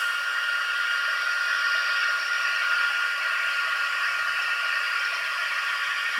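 A heat tool blows on embossing powder from the back of the paper, a steady close hissing whir at even loudness throughout with no pauses.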